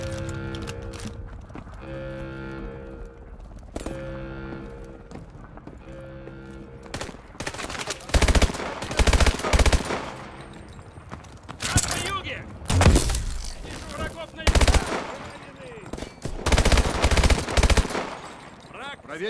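Video game gunfire in Call of Duty Advanced Warfare: after a stretch of music and shouted voices, heavy automatic weapon bursts and loud single shots erupt in repeated close volleys, with soldiers calling out between them.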